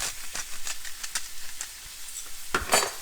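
Picanha steak cooking in a pan on a gas stove gives a soft, steady sizzle with repeated scraping and stirring clicks, rising to a louder crackle near the end; no one speaks.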